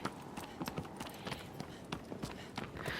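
Galloping horse in the Shadow of the Colossus video game, a steady run of clip-clop hoofbeats repeating quickly and evenly through the whole stretch at moderate loudness.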